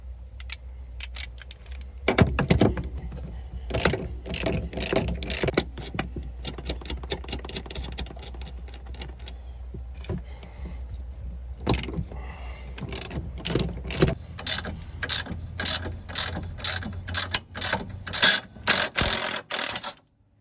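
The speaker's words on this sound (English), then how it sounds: "as I'm breaking it loose, you can tell that it just caught the bolt up" A ratchet wrench clicks in uneven bursts while breaking loose nuts during a coilover install on an RD1 Honda CR-V, with a low engine-like hum underneath, close and fairly loud.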